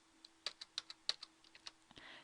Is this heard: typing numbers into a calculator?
yes